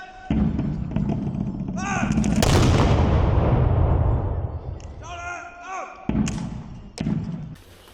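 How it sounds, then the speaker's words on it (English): Flintlock rifles fired together by soldiers give a loud booming blast that rolls out and decays over several seconds, followed by a second, smaller report, with voices talking nearby. "demonstration of the soldiers firing those flintlock rifles"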